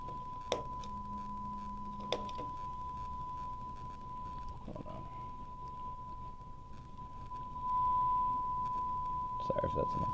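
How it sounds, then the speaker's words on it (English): Arduino pedal shield crushing audio to fewer bits as a dial turns, a steady electronic tone with buzzy digital artifacts and brief bursts, under a faint low background. "as I turn this dial, the data is actually going to be represented by fewer and fewer bits."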